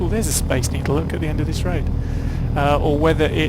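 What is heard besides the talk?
No everyday noise stands out behind the speech.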